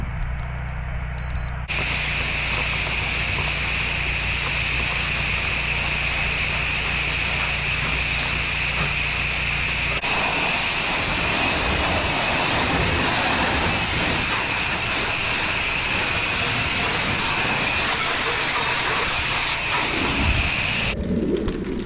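A pressure washer rinsing down the side of a house, a loud continuous high-pressure hiss and spray that shifts in tone partway through and runs steadily for about twenty seconds before cutting off.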